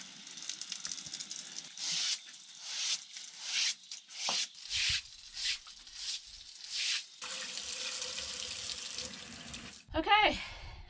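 A garden hose sprays water into a plunge pool in a steady hissing rush broken by repeated short stops and restarts, ending in a brief louder splash.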